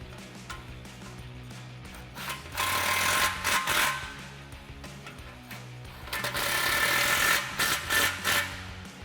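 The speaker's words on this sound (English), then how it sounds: "Now we can snug up both of these clamps with a 15 millimeter socket." A ratchet with a 15 mm socket tightens exhaust clamps on a Challenger cat-back exhaust, making two bursts of rapid close clicking separated by a pause, over a low background hum.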